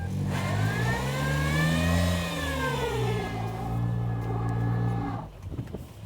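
A brand-new car stuck on its belly during a motorsport outing revs hard while trying to reverse, the loud engine note rising and holding before dropping off near the end, close and continuous.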